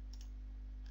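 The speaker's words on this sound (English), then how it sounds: "I make a right click and choose edit." A computer mouse gives a quick double click and then one more faint click, close and quiet over a low steady hum.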